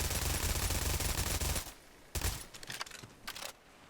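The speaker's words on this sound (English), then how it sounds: "here's the silenced version of the SMG, which is a carryover from ODST" A silenced SMG in Halo 2 rattles off a dense, muffled burst of rapid fire, then a few short bursts after a pause, with other game noise around it.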